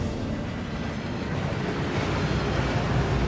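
Water rushing steadily at Gringotts in Hogwarts Legacy, as a dense, even roar of a waterfall that stays loud and unbroken throughout, with no voices over it.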